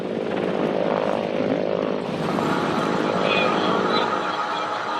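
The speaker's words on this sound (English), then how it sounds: "Soon, the attack helicopter, or Mi-35, eases into the skies." Mi-35 attack helicopter flying on a peacekeeping mission, a continuous droning engine and rotor roar, steady and fairly loud, with a slight shift in tone partway through.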